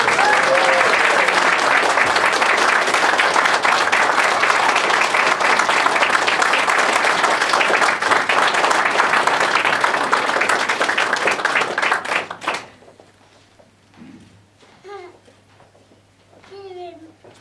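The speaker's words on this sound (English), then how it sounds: "Round of applause." A wedding crowd applauding for a newly married couple, loud sustained clapping that ends abruptly after about twelve seconds and gives way to faint chatter and a child's babble.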